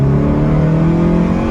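A 2001 Toyota MR2's 1ZZ engine breathing through an MWR intake pulls hard in second gear, giving a loud, steady engine drone that climbs slightly in pitch throughout, with no talking.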